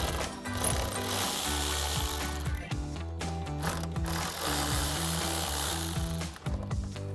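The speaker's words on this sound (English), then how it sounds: "Take your 7mm socket and remove both of those." A ratchet with a 7mm socket backs out screws on a 2024-2026 Mustang during a tail light install, giving steady rapid clicking bursts up close, with brief pauses between runs and no talking.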